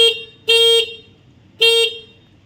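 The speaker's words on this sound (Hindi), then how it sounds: "चलिए आपको टेस्ट करके दिखाते हैं इसका हॉर्न हम लोग ने कैसे करवाया है" A replaced, very loud horn on a scooter is tested with two short, bright honks, the second one a little longer than the first.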